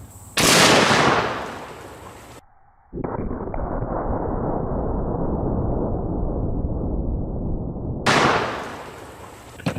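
A sniper rifle fires a blue-tip incendiary round into an adjustable kettlebell. A loud, sharp report is followed by a brief lull, then a sustained rushing roar for several seconds, and another loud blast comes near the end.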